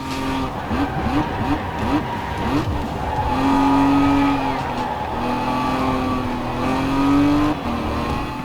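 Car engine in a racing video game, revving hard through quick gear changes then holding long steady high-pitched drones, with faint tire squeal, loud and close over a constant background hum.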